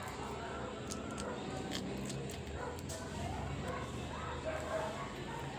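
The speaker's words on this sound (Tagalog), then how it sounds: "Pasensya na sa background, ang daming aso sa paligid." Several dogs barking and yipping in the background outdoors, faint and intermittent under a low rumble of ambient noise.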